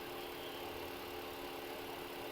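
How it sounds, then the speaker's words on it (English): A 2008 Vauxhall Vectra's engine-bay coolant fan running continuously with a fault, a steady broadband whoosh and hum heard close and alone, with no change in pitch. "heater fan work continuously."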